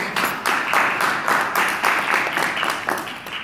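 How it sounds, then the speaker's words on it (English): Community event audience at a criminal justice panel gives itself a round of applause, dense steady clapping from many hands, fairly loud and sustained throughout. "Give yourselves a round of applause."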